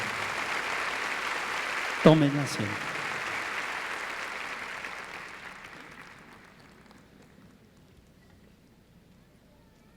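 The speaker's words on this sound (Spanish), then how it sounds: "Démosle un aplauso a nuestro Dios." A church congregation applauds in a hall, a broad wash of clapping that swells with a brief burst, then gradually fades out over several seconds while a voice speaks.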